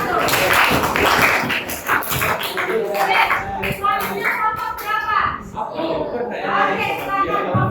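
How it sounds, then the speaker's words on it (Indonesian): A school class claps for a group that has just presented, a brisk burst of hand claps mixed with children's voices and chatter that carries on as the clapping thins out. "tepuk tangan dulu untuk kelompok 1"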